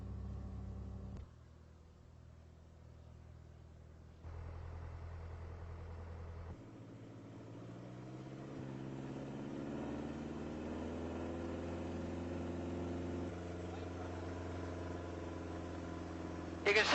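Turbocharged Mooney aircraft engine on takeoff with a manual wastegate, a steady loud drone that shifts in tone and rises in pitch as power builds, then holds at a sustained roar.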